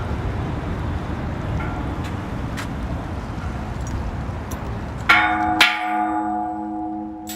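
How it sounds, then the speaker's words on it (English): A large bell is struck twice in quick succession, loud and near, its metallic ring sustaining and slowly decaying over steady outdoor ambient noise in Budapest. "Should I ring the bell?"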